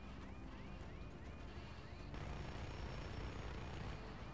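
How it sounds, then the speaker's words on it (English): Helicopter in Just Cause 3 drawing nearer, a steady loud rotor drone and engine rumble that swells midway, with repeating chirping tones over it and no voices. "Oh, another chopper."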